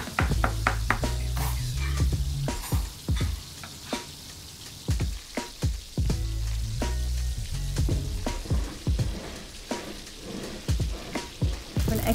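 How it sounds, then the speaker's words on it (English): An egg sizzles and crackles in a hot pan while it is broken up and tossed through fried rice, with repeated sharp scraping and clattering strokes of the utensil over a constant frying hiss. "Now just break that egg up and toss it through."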